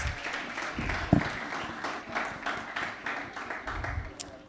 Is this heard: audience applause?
yes